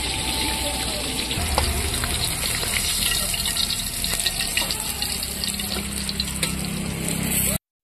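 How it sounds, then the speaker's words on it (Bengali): Eggplant and pointed gourd frying in hot oil at an outdoor winter picnic cooking setup, a steady broadband sizzle with splashy, watery bursts running throughout at close range. "তেল গরম হয়ে গেছে, তো আমি এখন বেগুন আর পটল গুলো ভেজে নেব।"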